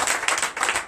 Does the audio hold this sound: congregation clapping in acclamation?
yes